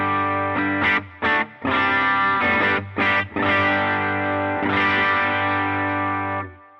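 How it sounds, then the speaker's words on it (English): Electric guitar on the bridge pickup through a JC amp model on a Fender Tone Master Pro, pushed into slight grit, plays loud, close, chorused chords with several short choked stops before a long ringing chord fades out. "it takes this squeaky clean sound of the JC amp and just gives it a little bit of hair"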